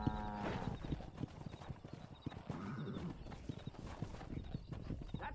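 Horse hooves clop in a quick, steady rhythm with a brief whinny near the start, mid-distance, over faint background ambience in the game Red Dead Redemption.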